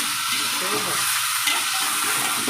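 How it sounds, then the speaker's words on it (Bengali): Food fries in a pan, a steady bright sizzle with scraping stirring strokes throughout and no talking, ahead of adding tomato, green chilli and onion. "এটা ভাজা হোক"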